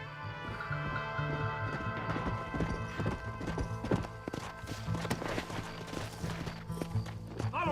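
Rapid hoofbeats clatter steadily as a horse gallops close by in Red Dead Redemption, with a brief whinny near the end and music playing underneath.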